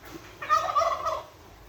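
A turkey on a flooded farm lets out a single loud, rapid gobbling call lasting under a second, close by, against quiet background noise.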